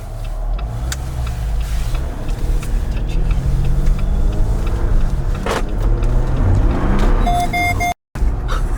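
A Jeep Wrangler JL EcoDiesel with a performance tune cruising, a steady low engine and road rumble from inside the cabin, loud and continuous with a few faint higher tones near the end.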